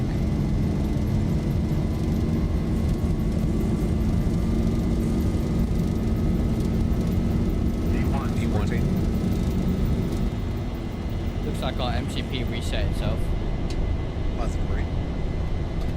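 Zibo 737 jet engines in a flight simulator roar at a steady loud level throughout, with a low rumbling drone and a faint whine, while someone talks over it.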